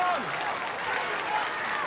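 A football crowd at a 2004 Kangaroos versus Port Adelaide match applauds an injured player, a sustained wash of clapping from a large stadium audience with a commentator speaking over it.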